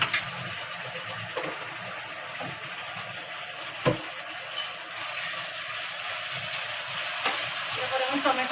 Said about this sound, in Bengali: এবার আদা রসুনের পেস্টটা দিচ্ছি আমি